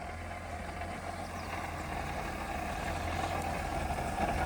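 A Holden VY Commodore that sat neglected for years idles steadily after being brought back to life, a continuous low, even engine rumble with no voices, holding constant throughout.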